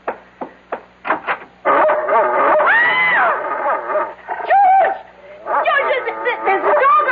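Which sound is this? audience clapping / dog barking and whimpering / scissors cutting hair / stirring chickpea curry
dog barking and whimpering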